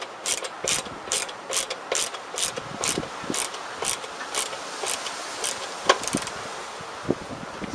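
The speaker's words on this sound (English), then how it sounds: "Screws back in." Screws being driven back into a motorcycle headlight shell during a heated-grip wiring job, a steady rapid ratcheting of the screwdriver, close and clear, with a couple of sharper clicks near the end.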